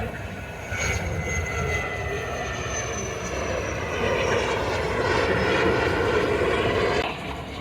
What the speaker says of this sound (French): Quatrième avion.